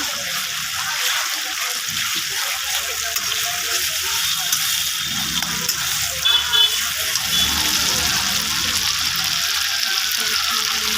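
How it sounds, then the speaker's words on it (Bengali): Chili paste with cumin, garlic and ginger paste sizzles in a pan for a fish curry, giving a steady, close hiss of frying that runs throughout with a few soft clinks and some talk. "মরিচ বাটা, মশলাটাকে আমি ভালো করে কষিয়ে নেব।"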